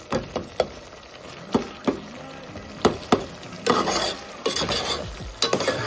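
Tomatoes and chilli powder sautéing in a pan, with a spoon scraping and clinking against the metal in irregular strokes over a soft background sizzle, close and moderately loud, no voices.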